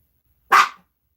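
A single sharp dog bark, loud and close, standing alone against silence in a home on an early morning.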